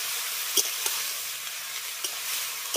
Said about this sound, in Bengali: এবার মশলার সঙ্গে সমস্ত কিছুকে খুব ভালো করে কষিয়ে নেব